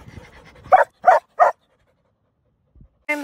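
Small dog barking three quick times close by after light panting, then a short pause and the start of another bark, indoors in a bedroom near a doggy door.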